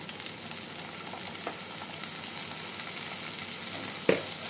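Chopped tomatoes going into reddish fried onions in a pan for Bengali bata fish curry, with a soft, even sizzle throughout and a small thump near the end.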